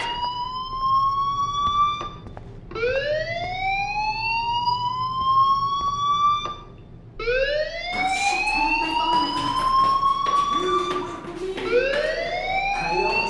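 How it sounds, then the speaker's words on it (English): A fire alarm blares in the video game Life is Strange, a loud siren-like tone that sweeps upward in repeated wails with brief gaps between them, heard on its own without talk. "do you hear that fire alarm? That means you should be outside."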